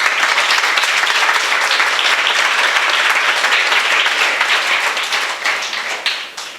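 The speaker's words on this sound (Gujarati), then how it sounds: "9 વિદ્યાર્થીઓએ જે ભાગ લીધો છે, 9 માટે આપણે તાળીઓ પાડીએ." An audience at a school commemorative event breaks into dense, sustained applause for nine participating students, the steady clapping filling the room before thinning out toward the end.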